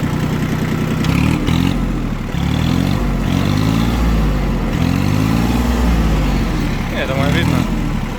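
A Yanmar F13D Japanese mini tractor engine runs as a loud, steady mid-pitched diesel chug with a few brief rev changes and interruptions throughout.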